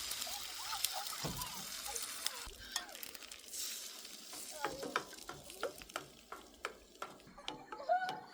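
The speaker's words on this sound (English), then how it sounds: "Now we're gonna throw the eggs on there. We'll scramble them up." Scrambled eggs cook in a pan over a campfire for breakfast: soft sizzling with repeated scraping and clinking strokes as they are stirred, growing more frequent toward the end, with faint voices nearby.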